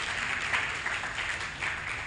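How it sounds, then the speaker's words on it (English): Audience applause at a school awards event, a steady, moderately distant patter of many hands clapping without pause. "Can we put our hands together for that?"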